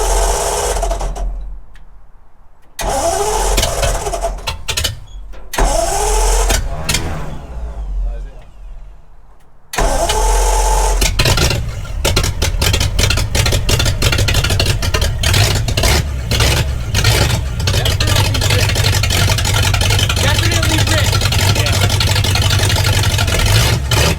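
A traditional hot rod engine fitted with a new intake runs loud and close, a rough uneven idle giving way to steady revving and sustained running.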